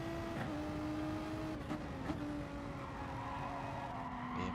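Race cars circling Brands Hatch GP Circuit in a racing video game, with sustained engine whine and shifting pitch from several cars close together and no talk.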